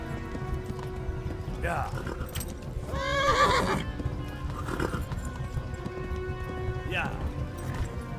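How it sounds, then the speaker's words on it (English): Horse hooves clip-clop through the medieval video game Kingdom Come: Deliverance, the horse neighing and whinnying now and then over a steady background, while someone speaks briefly. "No sé qué le pasa a este caballo."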